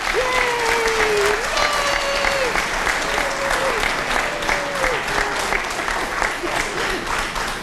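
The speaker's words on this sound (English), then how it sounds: "please stand or wave so we can give you a huge round of applause and a very special thank you" Audience applause fills an Adoption Day ceremony in Pinellas County, a dense steady roar of clapping that holds for several seconds while voices call out over it.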